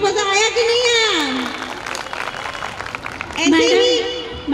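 At a school annual function, audience applause and crowd noise rise in a broad clapping wash beneath a woman's loud, animated voice addressing the crowd.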